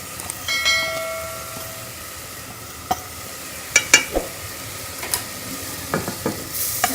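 Spices sizzle softly in a pan for aloo baingan, with a spoon clinking and scraping against the metal in scattered sharp taps over a low frying hiss.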